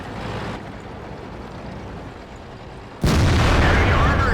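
Artillery fire in the World of Tanks tank battle game: a sustained rumbling barrage that cuts off, then a sudden loud, broadband blast of shelling erupts near the end and holds, with no voices.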